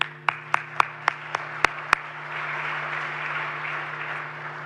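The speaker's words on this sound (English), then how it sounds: "And I think this actually does deserve applause." Audience applause at the opening plenary of a 2022 conference: a few sharp, separate claps come first, then they swell into a steady, sustained wash of clapping across the hall over a low room hum.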